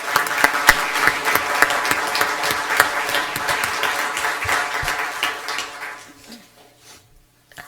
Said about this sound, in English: So can we give her a round of applause?